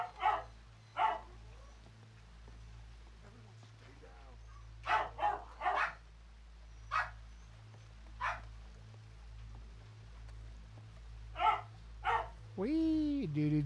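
Puppies barking in short, sharp yips and bow-wows, scattered singly and in quick pairs across a quiet room, close by and fairly loud, ending with a sung vocal line and a low steady hum underneath.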